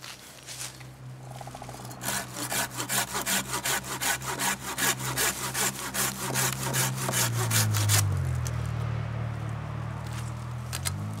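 A hand pruning saw cuts off the tip of a black acacia stem with quick, rhythmic back-and-forth rasping strokes, close and loud, then gives way to a low, steady rumble.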